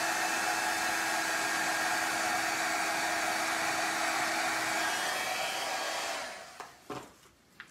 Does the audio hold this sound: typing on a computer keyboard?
no